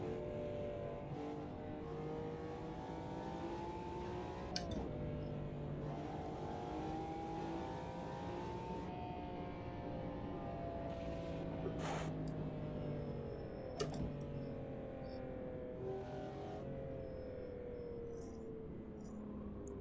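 A 1990s GT1 Le Mans race car in Automobilista 2 roars steadily at high revs, pitch rising and falling through gear changes, with a couple of sharp clicks or knocks along the way and no voices.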